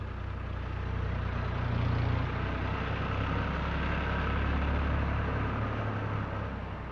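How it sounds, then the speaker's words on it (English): An International Harvester 484 tractor runs steadily while muck spreading on a farm property in southern Australia, a low continuous engine drone with slight swells in loudness, heard up close without any voices. "is seen here muck spreading on a property in southern Australia."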